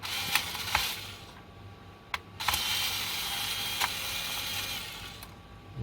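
Small screws being backed out of the speed control receiver board on a Tamiya Subaru RC car, heard as a few sharp close clicks and ratcheting ticks over a low steady hum.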